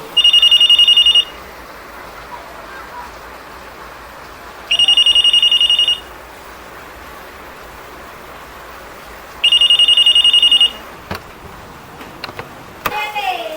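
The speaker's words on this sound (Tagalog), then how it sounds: "Ringing the police department." Telephone ringing on a line to a police department, three long electric rings separated by several seconds of quiet hiss, near and loud, followed by faint clicks and rustles.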